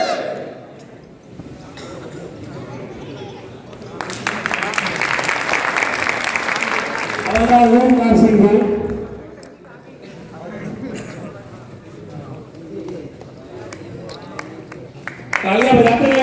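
An audience claps at a patriotic evening memorial event honouring martyrs and soldiers, a steady mid-level round of applause that rises and fades while an announcer speaks names over a microphone.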